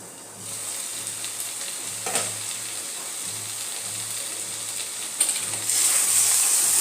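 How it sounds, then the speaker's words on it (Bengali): Chicken sizzles as it sautés in a pan, a steady close frying hiss with occasional scrapes of stirring and a brief clink, growing slightly louder near the end, with no talking. "আরো 10 মিনিটের জন্য একটু কষিয়ে নেব।"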